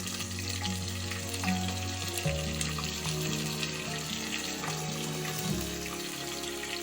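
Four long-sliced onions hit hot oil with fried cashews for banana flower biryani, giving off a steady, dense sizzling hiss under sustained background music tones.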